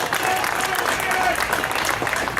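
A crowd of fans applauds the John Force NHRA race team at a question-and-answer session, with steady clapping throughout and voices chattering underneath.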